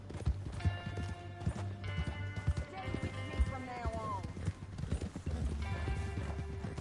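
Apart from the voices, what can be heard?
horse hooves in video game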